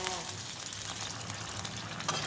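Canned fish chili paste being stir-fried in a pan, a continuous close sizzle with light scraping as it is stirred, short and steady with no talking.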